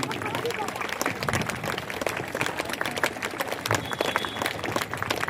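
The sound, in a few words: audience applause welcoming the guru to the stage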